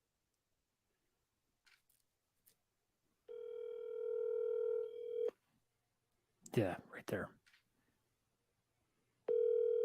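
A telephone call being placed, with steady ringback tones sounding in two long bursts separated by a pause, and a person briefly speaking between them, fairly quiet overall.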